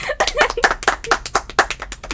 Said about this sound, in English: let's give another round of applause to me